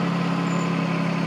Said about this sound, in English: here he comes with the Kubota